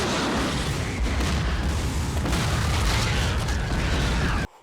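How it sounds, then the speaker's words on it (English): A dense, continuous roar of booming explosions and rumbling blasts from the film Starship Troopers, loud and sustained, cutting off abruptly near the end. "The explosions are so cool."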